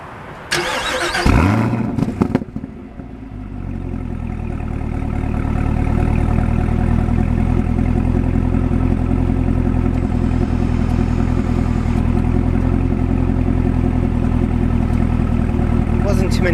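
A 2018 Chevrolet Camaro ZL1 1LE V8 cranks and fires from a warm start with a sharp, loud bark, then settles into a deep, steady rumbling idle that holds close and constant.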